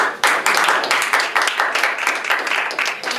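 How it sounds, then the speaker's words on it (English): Audience applause at a student association presidential candidates Q&A, a brisk round of clapping from a modest crowd, steady and fairly close throughout with no talk over it. "Can we give Johnny a round of applause?"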